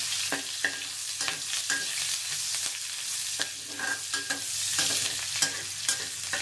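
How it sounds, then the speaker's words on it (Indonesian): Sliced shallots and spices sauté in a pan for an eel dish, a steady close sizzle and fry broken by repeated scraping and clinking stirs, with no talk. "Oke, kita tumis bumbu yang diiris tadi. Bawang merah dulu."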